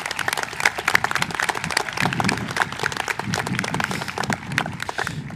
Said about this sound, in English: Can we all please give them another round of applause?